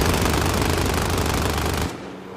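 A StG-44 assault rifle fires in the video game Warzone Pacific as one long, dense, loud burst of automatic gunfire that lasts nearly two seconds, then cuts off into a fading echo.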